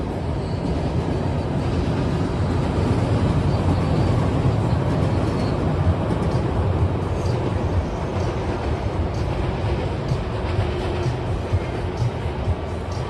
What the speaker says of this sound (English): Oh, I think we got another train coming over.